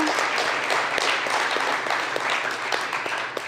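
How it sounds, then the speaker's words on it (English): An audience applauds at a university event, the GCU Canyon Challenge: dense, steady clapping fills the whole stretch at moderate distance, with no voices over it. "I want to give another round of applause to Trinity Capital for today"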